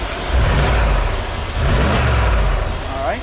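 A Brabus 6x6 G-Wagon revs its engine with the switchable exhaust left off, giving a loud, steady low rumble that swells twice over a few seconds, close by and without clear speech.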